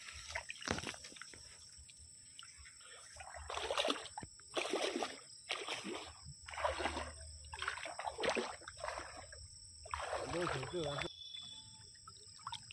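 Splashing of a person wading through canal water on the way across, repeated sloshing surges every second or so, fairly close, with a voice talking over parts of it.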